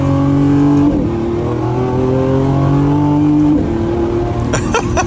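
A 2025 Lamborghini Revuelto accelerates hard, its engine howling loud and close, climbing in pitch through the gears with quick drops at each shift, ending in sharp crackles.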